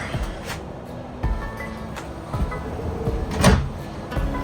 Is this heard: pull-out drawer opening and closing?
yes